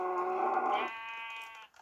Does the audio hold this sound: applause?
no